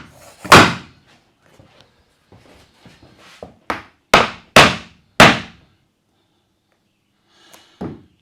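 A hammer pounding during a tiny house build: about six sharp, close knocks at irregular intervals, with quiet pauses between them and no talking.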